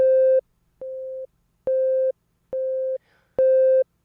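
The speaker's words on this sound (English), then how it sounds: "after we play the sine wave" A steady sine wave test tone, saturated in FL Studio, sounds in five separate bursts of about half a second each, with short silent gaps between them. The tone is bright and carries added overtones.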